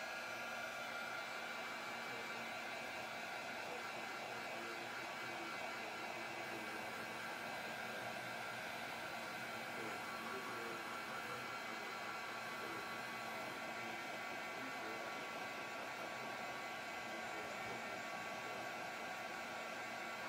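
A hair dryer blows steadily on wet chalk applied to felt, a continuous loud whooshing roar with an even motor hum that holds unchanged throughout, no speech.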